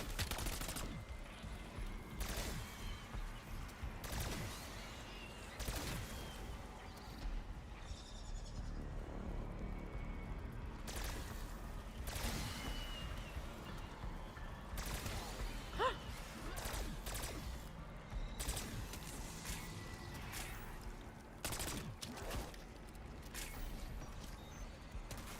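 Bursts of gunfire crackle repeatedly in a Call of Duty Warzone match, sharp shots and rapid volleys scattered across the stretch at moderate loudness, with no voices.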